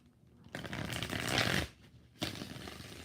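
Tarot cards shuffled in a steady riffling burst lasting about a second, then a brief pause before a second shorter round of shuffling, close and fairly loud with no voices.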